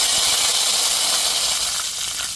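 Mustard seeds and curry leaves sizzling in hot oil in a pan, a dense, loud, steady hiss close up with faint crackles underneath, no talk.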